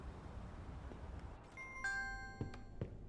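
Doorbell chime in the Big Ambitions business-simulation game: a bright two-tone ding-dong rings out cleanly with sustained tones, followed by a couple of softer knocks over low ambient background.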